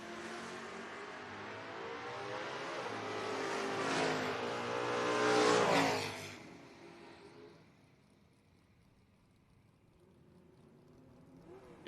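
Mustang and Camaro footbrake drag cars launch side by side at a drag strip, their engines roaring loudly and building for several seconds before fading quickly into the distance.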